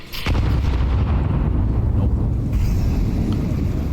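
Grenades exploding in a Counter-Strike match, a loud sustained rumbling blast that stays dense and continuous throughout, with no voices in the clip.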